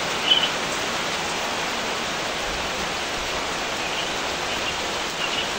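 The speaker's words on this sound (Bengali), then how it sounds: "আমরা সবাই মিলে এখানে বসে বসে বৃষ্টি উপভোগ করতেছি।" Rain falls steadily during a rainy day outdoors, a continuous broadband hiss of drops with even intensity and no talk, close and unbroken for the whole stretch.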